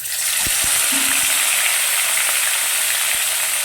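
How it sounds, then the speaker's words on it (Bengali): Hot oil sizzles loudly and continuously as rohu fish fries in a pan, with a few light clinks and taps of utensils, close up. "তেলটা খুব ভালো মতো গরম হয়ে গেছে আমি একে একে মাছগুলো সব ভেজে নেব"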